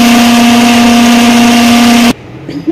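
An electric kitchen blender grinds spice paste with a loud, steady motor whine, close up, before it cuts off abruptly and a few faint clinks follow; no speech.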